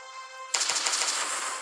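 In the video game Last Day On Earth, a tonal hum cuts off into a sudden loud 12-gauge shotgun blast followed by a rapid rattling burst of gunfire that continues to the end.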